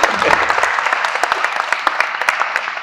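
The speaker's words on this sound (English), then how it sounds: "Please, can we give a round of applause for him?" Audience applause at a product design workshop, a steady patter of many hands clapping close by, moderately loud with sharper individual claps standing out.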